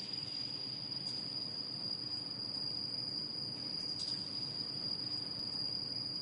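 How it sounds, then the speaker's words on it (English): Crickets chirp inside the empty air chambers of a bridge tower foundation, a steady high trill ringing continuously over a low hollow background rumble, with no voices. "It is surprising that crickets are hiding down here"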